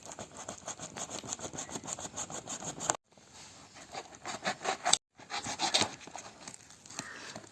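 Packaging around a new tripod camera stand being torn and ripped open, a close run of rough scraping, rubbing tears in bursts with two brief pauses, no talking.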